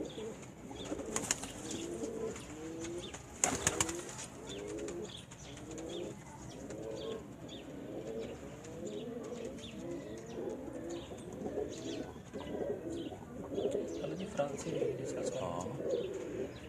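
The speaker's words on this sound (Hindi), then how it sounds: "सैयद अमादुद्दीन साहब की मुख्तलिफ नस्लों में आप कबूतर देख रहे होंगे" Several pigeons of different breeds, including golden and Ferozpuri types, coo in repeated low rolling phrases at close range, with occasional chirps and brief wing flaps in the background.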